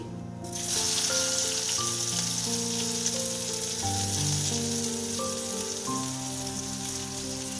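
Chopped onion dropped into hot oil for a Bengali mourola fish chorchori with potato and eggplant: after a brief quiet moment, a loud, even sizzle bursts in and holds steady, with a sustained tonal hum underneath.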